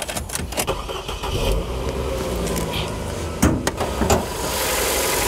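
A high-mileage used Renault Samsung New SM5 Platinum car engine cranks and catches amid clunks and a door-like thud, then settles into a steady idle hum.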